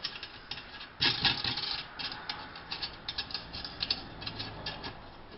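Nuts and washers being fitted and snugged onto a mailbox bracket during assembly, giving a close, quiet run of small metallic clicks, ratcheting and rubbing that comes in short irregular bursts with no speech.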